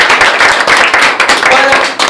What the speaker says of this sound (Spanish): Un aplauso grande entonces